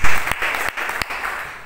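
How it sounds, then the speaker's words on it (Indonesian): A church congregation gives a brief burst of applause for Jesus during a sermon. A few distinct claps stand out over a short, close, loud patter. "Beri tepuk tangan terbaik kepada Yesus."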